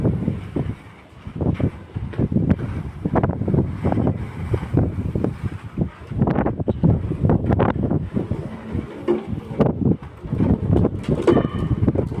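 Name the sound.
strong wind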